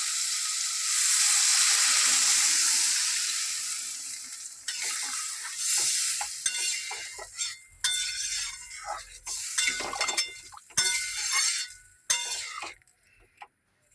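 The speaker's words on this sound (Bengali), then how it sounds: "হ্যাঁ, এবার আমি জল দেবো।" Water is poured into a pan of sizzling spice masala for a cauliflower, potato and duck egg dish. A loud, steady burst of hissing sizzle opens and slowly fades, followed by irregular scrapes and clinks of a spoon against the pan.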